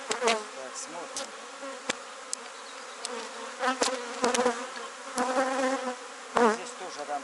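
Honeybees drone at an open hive as frames are checked while splitting a colony onto an overwintered queen, a continuous buzzing broken by several quick, louder swells and streaks from individual bees passing close.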